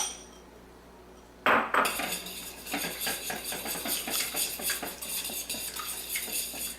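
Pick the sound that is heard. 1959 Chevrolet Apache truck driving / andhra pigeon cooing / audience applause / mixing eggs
mixing eggs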